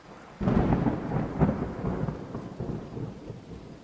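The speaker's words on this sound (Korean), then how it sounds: "비가 오기 시작했고" Thunder in the video game Wardwell House: a sudden deep rumbling roll bursts in after a quiet start, with a second heavy crack and a long fading growl over a bed of steady rain.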